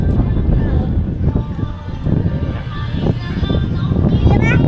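Steady, blustery wind roars across the microphone outdoors on the Mekong riverside, a constant rumbling gust with faint voices and activity underneath.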